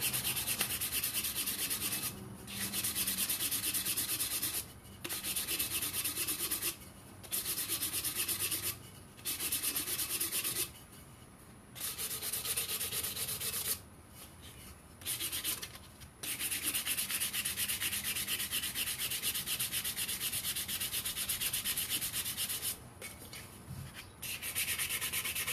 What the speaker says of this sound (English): sanding is very easy